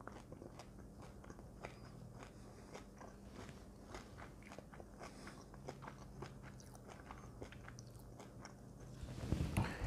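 Someone biting and chewing a crispy, thin-crust Dr. Oetker Ofenfrische tuna pizza, heard as soft, close crunches repeating irregularly at a quiet level, with a louder rustle near the end.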